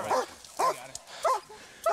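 A police dog barks four times in quick, evenly spaced bursts at close range, loud and sharp, with a tense arrest scene around it.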